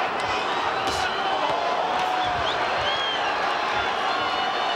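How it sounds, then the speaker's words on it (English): Large crowd at a boxing arena, a dense continuous roar of many voices with scattered shouts and cheers filling the whole stretch at steady, fairly loud level. "Big crowd on hand tonight to watch this exhibition of boxing."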